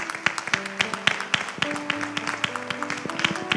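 Church congregation clapping at a Sunday morning service, with steady rhythmic claps rising above sustained organ or keyboard tones, moderately close.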